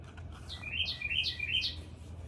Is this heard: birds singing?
yes